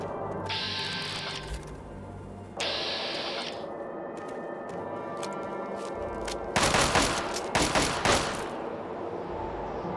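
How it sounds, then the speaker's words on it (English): Fallout 3 gunfire: rapid bursts of automatic shots with sharp single cracks, loudest and densest in a cluster toward the end, over steady in-game ambience. "I think he was just randomly shooting at, like, nothing as a scripted event or something."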